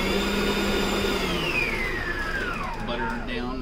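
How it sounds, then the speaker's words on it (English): Electric mixer creaming butter and sugar for chocolate chip cookie dough, a close, steady motor whir that winds down in pitch toward the end, with a voice speaking over it. "So creaming is when we take our butter and our sugar and combine it together."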